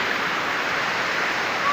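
Cascading waterfall at Gambodes, Arakan, North Cotabato, heard as a steady, dense rush of falling water close by, filling the whole moment without a break.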